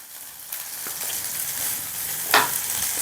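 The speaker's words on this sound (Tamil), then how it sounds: "இப்போ வெங்காயம் நல்லா வதங்கினோடனே எடுத்துட்டு அரைச்சிட்டு வந்துடலாம்." Onions sautéing in oil in a pan, a steady close sizzle that thickens after the first half second, broken by a brief louder scrape or stir near the end; no voices.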